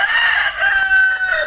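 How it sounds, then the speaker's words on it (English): A tethered fighting cockerel crows once, loud and close, a drawn-out strained call with no talking over it. "Like a fighting cockerel."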